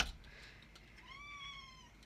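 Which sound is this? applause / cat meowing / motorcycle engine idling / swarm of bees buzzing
cat meowing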